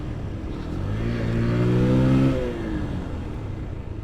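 A Bajaj Pulsar motorcycle engine revs while riding, its pitch climbing steadily for about a second before easing back down, loud and close with no voices.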